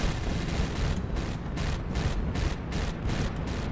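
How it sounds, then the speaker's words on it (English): An explosion aboard a warship in the HighFleet strategy game, a dense rumbling roar of blasts and booming gunfire with rhythmic pulsing bursts, loud and continuous with no speech. "Ooh, that is a fine-ass explosion."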